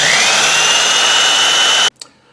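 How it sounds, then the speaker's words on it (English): Electric drill boring a hole in the metal part of a GSG MP-40 gun, a loud, close, steady high whine that cuts off sharply near the end, followed by a brief clatter. "Okay, so I finished drilling the hole"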